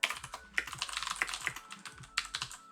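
Someone types a code comment on a computer keyboard, and the keys clack in quick, uneven bursts, near and fairly soft, with no talking.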